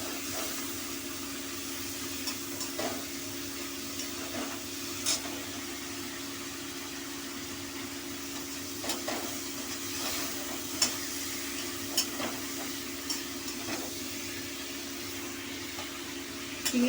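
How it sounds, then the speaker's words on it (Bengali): Shrimp rubbed with salt and turmeric fry lightly in hot oil, giving a steady, soft sizzle with a constant low hum beneath and occasional small pops and stirring clicks. "চিংড়ি মাছটা হালকা করে ভেজে নেব"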